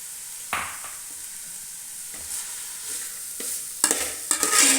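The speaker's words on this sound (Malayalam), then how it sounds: "ഇളക്കി യോജിപ്പിക്കാം ഉപ്പ് ഇട്ടിട്ട് വേവിച്ച കടലയാണ് ജസ്റ്റ് ഒന്ന് ഇളക്കി ഒന്ന് യോജിപ്പിച്ച്" Banana flower and boiled chickpea thoran with salt is stirred in a pan. Close scraping strokes sound over a light sizzle and grow louder and busier toward the end.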